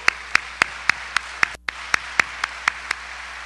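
A church congregation claps in slow, regular unison beats, about a dozen sharp, evenly spaced claps with a brief gap midway, fairly close and clear against a quiet room.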